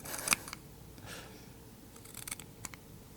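Rounded-tip plastic safety scissors snipping through material, a few short crisp cuts spaced across a quiet moment, close and soft, with no talking.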